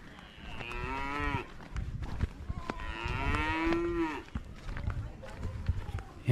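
A cow moos twice in Kathmandu, each drawn-out, wavering call lasting about a second and standing out clearly against low background rumble.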